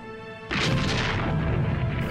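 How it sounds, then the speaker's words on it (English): A falconet, a light breech-loading cannon, fires once with a sudden heavy boom that rolls on and fades slowly, loud and close, after a moment of near quiet. "These are falconets, light, breech-loading artillery."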